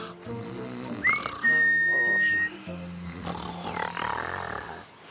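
A bright, steady whistled tone with a short rising chirp before it, a cartoon character imitating a bird call over a low, rumbling snore-like background.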